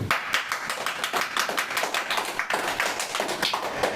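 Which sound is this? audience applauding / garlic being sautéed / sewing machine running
audience applauding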